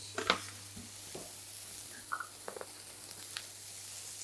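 Sea bream stir fry sizzles softly in a pan, faint crackling punctuated by a few light clinks and scrapes of utensils, no voices over it.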